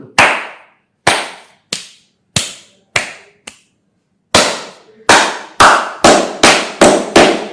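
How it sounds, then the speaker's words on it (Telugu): Hand claps ring out sharply, first six spaced singly with pauses, then after a gap a faster run of about eight in a rhythmic sequence, close, loud and reverberant, with no talking. "చిన్న ఉదాహరణకి చప్పటి కొట్టాలనుకోండి"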